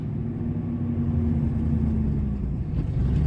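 A 2000 Ford F150 engine chugs at a rough, erratic high idle, a steady loud low rumble with uneven pulsing, heard close with no talking.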